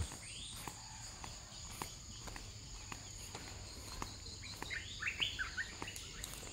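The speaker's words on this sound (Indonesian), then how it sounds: "Suara burung kan di pagi hari." Birds call and chirp in a Dayak village in Central Kalimantan in the morning, with brief scattered chirps growing busier toward the end, alongside a steady insect drone and occasional footsteps.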